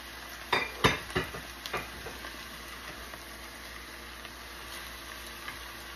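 Beef and noodles stir-fried together in a hot pan give off a steady, close sizzle, with a few sharp clanks from stirring near the start.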